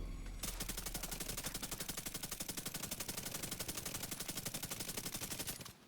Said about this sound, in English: Now, hip fire sucks in the Division 2. So here's me hip firing.